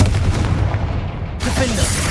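A blasting Confringo spell goes off in the Hogwarts Legacy game: a dense, booming burst of explosive noise that stays loud for about two seconds, with a brief dip near the middle before the blast surges again.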